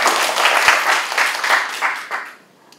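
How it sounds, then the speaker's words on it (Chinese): An audience at a literature lecture breaks into loud, dense applause to welcome the speaker, the clapping fading out over the last second. "我们接下来就用热烈的掌声欢迎"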